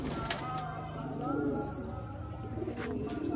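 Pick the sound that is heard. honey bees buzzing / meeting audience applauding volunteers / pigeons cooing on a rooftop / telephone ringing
pigeons cooing on a rooftop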